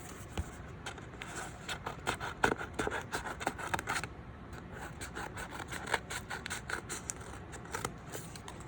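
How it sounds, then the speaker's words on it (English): Scissors snipping through paper along a drawn line to cut out tree shapes, a run of quick close crisp snips and scraping paper rustles in an irregular rhythm, no talk. "I'm going to go ahead and cut along this line right here."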